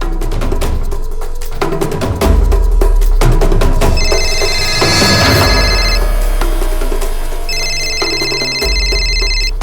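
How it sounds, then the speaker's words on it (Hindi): A telephone rings in repeated electronic bursts, fairly loud and close, over a tense dramatic music score in a crime drama scene, with no speech during the ringing. "किसका फोन है?"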